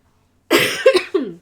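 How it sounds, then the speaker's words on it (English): A person lets out a short burst of coughs after a silent pause: one strong cough followed by two quicker, rougher ones, close and loud. "I coughed."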